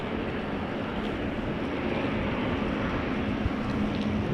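Finnair Airbus A350 airliner at Amsterdam Schiphol starting its engines after pushback, heard as a steady broadband rumble and roar with a faint rising whine, distant and continuous, no talking.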